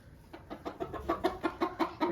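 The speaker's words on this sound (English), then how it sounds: "harassing a chicken who's trying to lay an egg" A hen clucks repeatedly while trying to lay an egg in a chicken coop, a regular series of short, moderately loud clucks that quicken and grow stronger toward the end.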